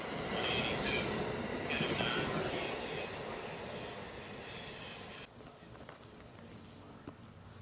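Amtrak Northeast Regional 182 pulls into track 1 at a BWI station, its wheels grinding and squealing loudly for about five seconds before cutting to a faint hum.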